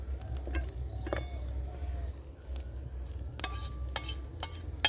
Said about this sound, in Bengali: কড়াইতে সরষের তেল দিয়ে দিয়েছি, দিয়ে পেঁয়াজটাকে আমি ভেজে নিচ্ছি।